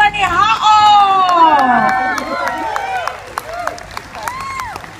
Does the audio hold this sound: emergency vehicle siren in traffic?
no